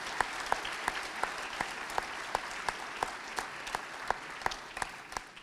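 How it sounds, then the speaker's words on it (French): Audience applause at a conference fills the room, a steady wash of clapping with sharp individual claps punctuating it, moderately loud and sustained without speech. "vous pouvez l'applaudir"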